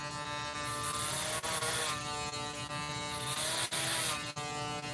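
Andis Masters Black Label hair clipper running at a live on-stage cut, giving a steady, loud electric buzz with a rich harmonic whine and brief dips, no talking.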